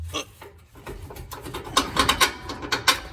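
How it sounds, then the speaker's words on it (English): A ratchet wrench turns out the strut top bolts on a 2014 Ford F150, giving close, sharp clicking bursts in quick rhythmic runs that grow louder and denser toward the end. "So pulling out these bolts."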